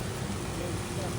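Rain falls outdoors as a soft, steady broadband hiss, quiet and unbroken through the short stretch.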